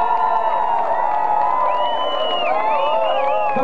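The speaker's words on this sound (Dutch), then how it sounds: "Maak even een gigantisch applaus." A concert audience at a live cover-band show of a song cheers loudly and steadily, with whoops and shouts rising over a dense crowd roar for the whole stretch.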